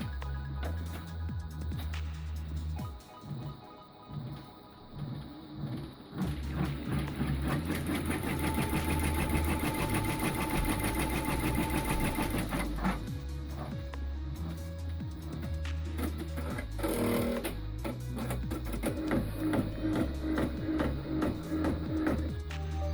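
A sewing machine stitches a fabric zipper pouch key chain wallet, running in a long steady mechanical whir that stays fairly loud through most of the stretch, with brief pauses and restarts.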